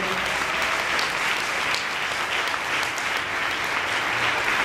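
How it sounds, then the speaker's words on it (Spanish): Congregation clapping at a church thanksgiving service, sustained and steady throughout, with faint voices mixed into the crowd. "Denle esas palmas al Señor."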